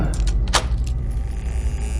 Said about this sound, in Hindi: चाबी लगाकर डोर खोला,